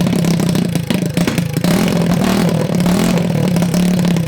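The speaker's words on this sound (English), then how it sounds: "That's really loud. It's this exhaust right here." A Honda Grom motorcycle running without an exhaust baffle roars loud and close, its engine holding a rough, throaty idle with brief revs and some mechanical clatter.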